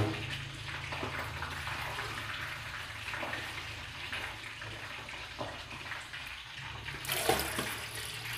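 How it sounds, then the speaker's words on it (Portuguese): A tap runs into the pot of an electric rice cooker, making a steady, close rush of filling water that swells louder just before the end. "Vou colocar água."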